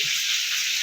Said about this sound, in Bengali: এখন ভেটকি ফ্রাই হচ্ছে এখানে